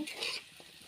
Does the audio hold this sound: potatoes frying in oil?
yes